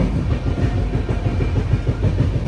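A passenger train runs at speed, and the carriage interior is filled with a loud, continuous rumble and rhythmic clatter from the wheels on the track.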